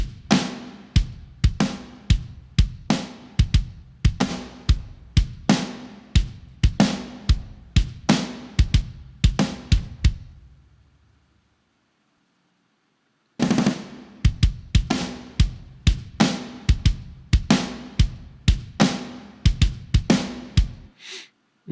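Rock drums with snare and kick hammer out a steady, tight pattern, first with heavy saturation, then after a pause of several seconds the same groove returns without it, dry and punchy with no voices.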